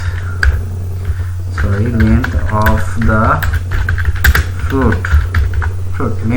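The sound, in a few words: typing code on a computer keyboard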